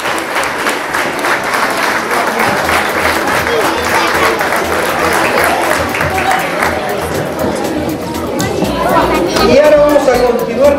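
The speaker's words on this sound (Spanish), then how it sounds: "nos despedimos con un fuerte aplauso nuevamente" A crowd at an amateur golf tournament's prize ceremony applauds loudly and steadily, with chatter and voices mixing in as the clapping thins toward the end and someone speaks.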